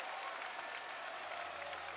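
A basketball arena crowd at a Western Kentucky versus Charlotte game cheers and applauds in a loud, sustained wash of clapping and shouts.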